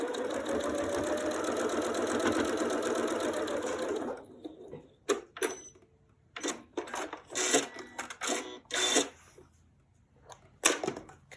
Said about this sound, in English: I'm gonna go ahead and sew this one as well.